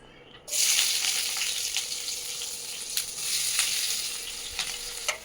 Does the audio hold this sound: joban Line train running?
no